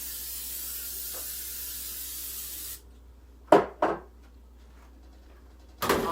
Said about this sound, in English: Spray your pan real good.